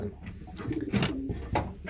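Racing pigeons, a slate cock and a white flight hen, coo softly in a low, repeated rolling murmur, several calls overlapping at close range.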